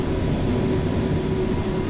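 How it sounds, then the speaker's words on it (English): A Glasgow Subway 1980 stock train in a video game rumbles steadily past with a low mechanical drone and a thin high squeal of wheels joining toward the end. "There goes another train."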